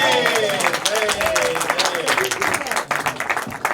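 Audience applause and clapping at a Hindi poetry recital honoring the poet Dinkar, a dense steady patter sustained throughout with chanting-like voices mixed in.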